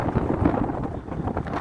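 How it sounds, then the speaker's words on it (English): Gusty wind on an open hillside among fields, buffeting the microphone in low rumbling bursts that rise and ease over a short stretch, with no voices. "but it is definitely windy"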